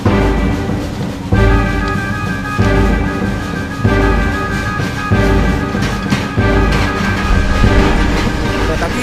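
A train rolls past loudly and close, with a rhythmic clatter of wheels over rail joints repeating about every second and a half over a heavy, continuous rumble.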